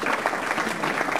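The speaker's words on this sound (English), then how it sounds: "let's give one more big round of applause to Dave." A live audience gives a dense, steady round of applause for a tech meetup guest, a short burst of many hands clapping together.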